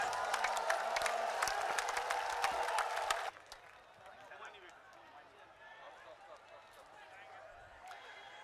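A large crowd at the Rose Valley protest rally claps loudly for about three seconds, then stops abruptly. A quieter background murmur of voices follows.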